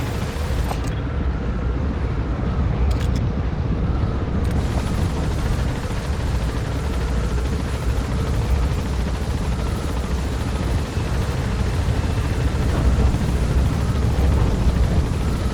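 A helicopter in Metal Gear Solid V gains altitude with a loud, continuous rotor thump and turbine roar, dense and close throughout, with no speech over it.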